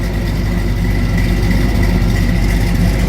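A 1983 Chevrolet Blazer resto-mod's engine idles with a steady, low rumble, continuous and even, close by, with no talking over it.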